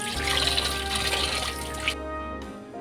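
Water splashes and sloshes as fish pieces for a tamarind fish curry are washed by hand, a near, busy rush with a low hum that ends after about two and a half seconds.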